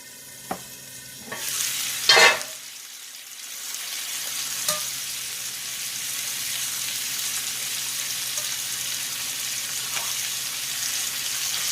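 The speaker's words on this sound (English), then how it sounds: "let's throw a few more pats of butter in here" Butter pats sizzle in a hot pan while chicken taco filling cooks; a broad steady fry hiss runs throughout, with a louder burst of crackling early on when the butter hits and a few faint clinks.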